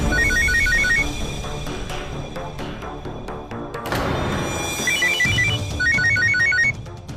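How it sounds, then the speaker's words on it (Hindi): A phone ringtone chirps from inside a freezer in short repeated melodic bursts, pausing midway and then ringing again, over a busy background. "फोन फ्रीजर में बज रहे हैं"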